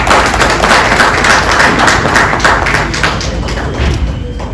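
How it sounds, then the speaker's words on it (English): Applause from an audience welcoming a guest at the opening ceremony of a medical expo in Bangladesh, a dense, steady wash of many hands clapping that fills the clip and tapers slightly near the end. "Let's welcome him with a big applause."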